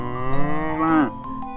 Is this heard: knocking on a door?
no